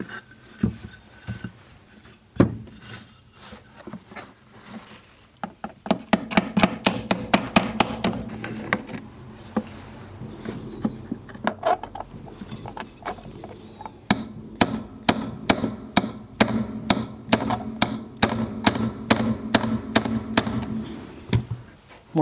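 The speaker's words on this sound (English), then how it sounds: "I think I'll try to hammer these two out." Sharp hammer blows knock nails out of a wooden tea table, a few scattered strikes at first, then long runs of quick, evenly spaced metallic taps close to the microphone, with brief pauses between bursts.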